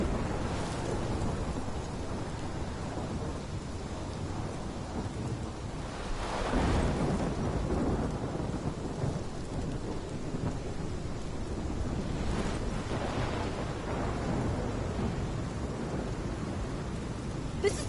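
Steady rain pours throughout a thunderstorm in the game Life is Strange, with low rumbling thunder swelling around the middle and again later, loud and continuous with no talking.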